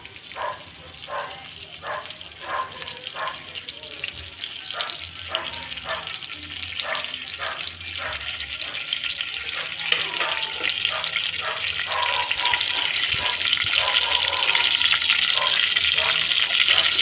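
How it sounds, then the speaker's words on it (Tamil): Mustard seeds crackle and pop in hot oil while a tamarind yam curry is being made, a steady sizzle with rapid irregular spluttering that grows louder and denser over time, with occasional speech-like murmurs in the background. "கடுகு பொரியட்டும்."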